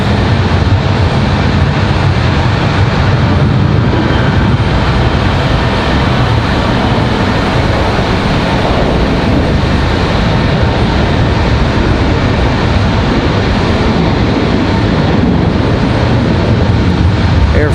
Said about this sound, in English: Air France over Wake Forest